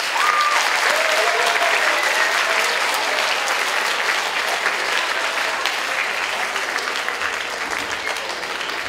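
An audience at a spring school band concert applauds the retiring music teachers, a full, steady wash of clapping that fills the room for about nine seconds and tapers slightly near the end.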